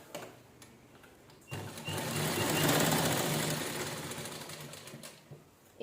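A sewing machine stitches two cushion cover fabrics together, one a sheer, transparent cloth cut from leftover blouse pieces, with a steady, fast mechanical whir that runs continuously and close from about a third of the way in, after a quieter start.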